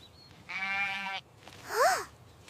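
A sheep bleats once in a loud, wavering cry, followed by a brief high chirp-like call; no one speaks.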